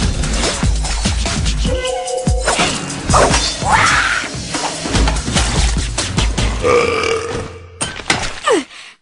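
A cartoon character lets out a series of loud, gurgling belches amid crashes, whacks and other comic noises, with busy overlapping sound throughout.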